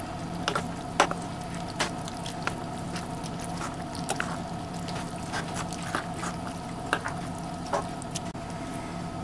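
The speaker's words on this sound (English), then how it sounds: "Now let's see if we can stir all of this up." Beans and chili ingredients being stirred in a pot, giving soft wet squishing and sloshing with scattered clicks of the spoon against the pot, steady and close with no talking.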